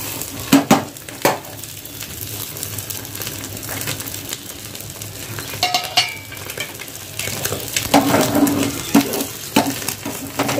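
Egg and onion frying in a pan, with a steady background sizzle and scattered scrapes and clinks of a utensil against the pan as it is flipped, moderately loud and close.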